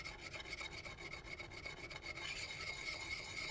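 A file or stone rasps along an axe edge in quick, rhythmic back-and-forth strokes, close and fairly quiet, with no talking.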